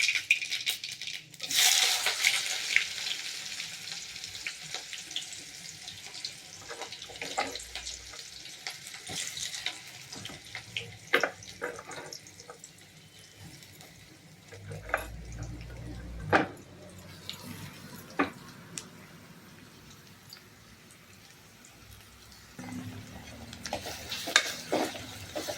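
Three coarsely cut onions sautéed with mustard seeds in a pan for a village-style tomato-onion chutney, with soft sizzling and scraping stirs under a speaking voice.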